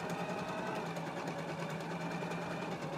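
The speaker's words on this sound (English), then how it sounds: "take it back to the machine and do a regular stitch right along our basting line" A sewing machine runs a regular stitch along a basting line on a pair of pants, a steady close whirring hum with no pause.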